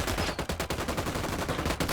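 Squad gunfire in Ghost Recon Wildlands, dense rapid automatic bursts rattling continuously and loudly close up for the whole stretch, with no talking over it.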